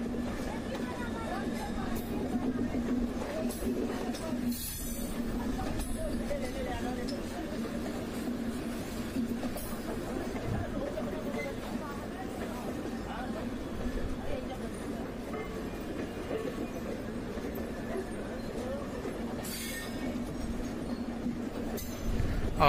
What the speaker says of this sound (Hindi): अभी प्लेटफॉर्म से धीरे धीरे बाहर हो रही है ट्रेन दोनों